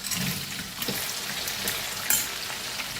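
Onion and whole spices (cinnamon, cloves, star anise, mace) hiss steadily in two spoons of hot oil for chicken curry, a close, continuous sizzle with occasional soft scraping bumps.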